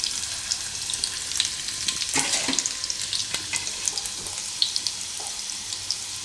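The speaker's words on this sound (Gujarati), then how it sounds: "તેલ આપણું ગરમ થઈ ગયું છે, તો એમાં આપણે લસણ નાખીશું" Garlic sizzles in hot oil in a pan while cooking fenugreek leaf curry, a steady bright crackle with scattered pops and light stirring clinks, close and alone.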